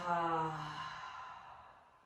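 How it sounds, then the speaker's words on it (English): A single deep, slow exhale during a breathing practice class, a soft voiced sigh that fades out over about two seconds, close to the microphone. "Exhale."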